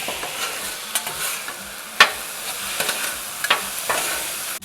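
Seasoned rice seasoned with ZingZang frying in a pan and being stirred with a rice spatula: steady sizzle with occasional scraping clicks and knocks from the spatula, close and moderately loud, no talking.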